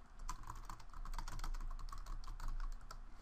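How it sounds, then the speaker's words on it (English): Steady run of keystrokes on a computer keyboard, someone typing a sentence while writing a LaTeX document, close and clear with quick irregular taps and no talking. "I could type a sentence"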